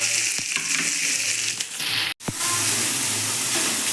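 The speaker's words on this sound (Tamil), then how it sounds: "வெங்காயம் பச்சை மிளகாய் போட்டு நல்லா வதக்கணும்" Onion and green chilli fry in a hot pan with a loud, dense sizzle that fills the whole stretch, broken by a brief drop near the middle and a few stirring knocks, close up with no voices.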